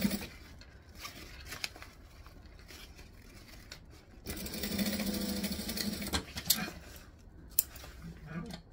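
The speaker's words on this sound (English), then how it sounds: "go under your machine. So I'm going to stitch and backstitch." A sewing machine stitches and backstitches seams on a fabric travel bag, with short quiet runs of stitching and then a louder sustained burst midway, heard close but at low overall volume.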